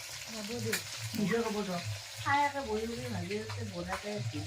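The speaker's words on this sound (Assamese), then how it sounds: "চাউল ভাজি আছে আৰু মাহ তিল পিছত ভাজিব" Rice frying in a pan during Magh Bihu cooking, a soft hiss running underneath people talking and a voice carrying over most of the clip.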